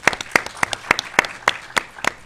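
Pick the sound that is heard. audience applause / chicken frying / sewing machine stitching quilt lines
audience applause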